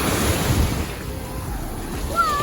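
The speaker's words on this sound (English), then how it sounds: "this is the beach." Surf washes steadily onto a Miami beach, a broad wash of waves and wind noise that eases slightly midway, with a faint whistle-like tone near the end.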